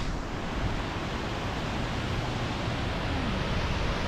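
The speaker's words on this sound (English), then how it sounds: "that's a beautiful waterfall" Continuous broadband rush of a waterfall in a Yellowstone canyon, heard from a distance as a steady, even roar with no other sounds or voices.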